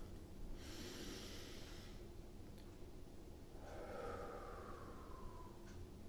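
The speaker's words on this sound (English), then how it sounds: "Take a deep breath." A slow, deep breath drawn in and released near the microphone, an airy inhale followed after a pause by a longer breathy exhale against a faint steady background hum, no talking.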